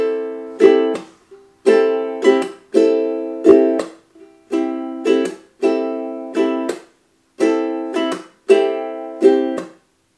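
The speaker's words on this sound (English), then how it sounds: "The string pattern for the song is just down, up, tap, down, up, tap. It sounds like this." Ukulele strummed in a repeating down, up, tap pattern, each chord burst followed by a muted percussive tap, cycling steadily about nine times, close and alone with no voices.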